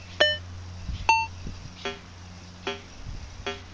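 A handful of short electronic beeps from a metal detector, spaced roughly every second or so, ring out clearly over a quiet background with faint rustling.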